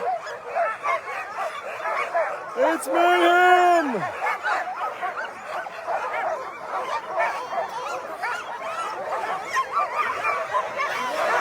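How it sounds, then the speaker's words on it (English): A pack of sled dogs barks and yelps nonstop at the start of the 2022 Willow 300 mid-distance race, with one long wavering howl-like call rising above the chorus midway, while people talk over the din. "We've got dogs of all types here. Dogs that run a lot."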